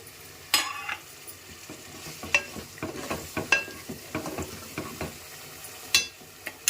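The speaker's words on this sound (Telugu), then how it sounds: "ఒక టమాటాకి ముక్కలు చేశానండి, అవి వేసేసుకోవాలి" Tomato pieces go into a pan of frying masala for an Andhra prawn and gongura curry, and a soft sizzle runs beneath repeated close scrapes and knocks of a spoon stirring at an uneven pace.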